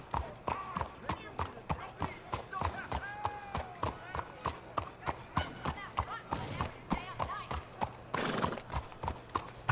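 A horse's hooves clip-clop steadily at a walking pace in the video game Red Dead Redemption 2, with a brief whinny and a voice speaking over the rhythmic footfalls throughout.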